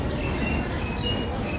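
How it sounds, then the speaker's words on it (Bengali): A train pulls into a station on the Amritsar to Jammu route, giving a steady rumbling rail noise with faint wheel squeal, continuous and fairly close. "ট্রেন এসে গেছে"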